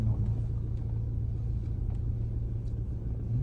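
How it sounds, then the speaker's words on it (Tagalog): Steady low engine rumble of a car on a night drive near Mahogany Market in Tagaytay, a continuous close drone with road noise and no talk. "Oh, may kotse din."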